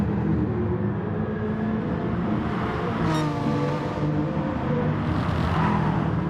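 A race car engine in a racing video game drones steadily at Brands Hatch and drops through a downshift midway, its revs briefly flaring before settling back to a continuous loud roar.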